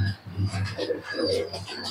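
Lal Jiriya pigeons, a master breeding pair kept for high-flying, cooing softly in low repeated burbles while someone talks nearby and faint chirps sound in the background.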